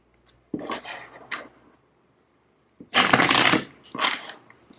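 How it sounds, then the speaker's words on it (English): Tarot cards shuffled by hand in two short bursts, a soft riffle followed after a pause by a louder, crisper flurry of card flicks close to the microphone. "that card just kind of flew out when I tried to shuffle"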